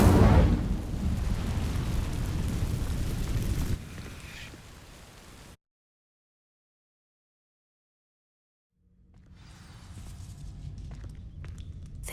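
In Hogwarts Legacy, an Incendio fire spell ignites dry vines with a loud burst and roaring flames that fade into silence, followed by a quieter crackle as the burning resumes.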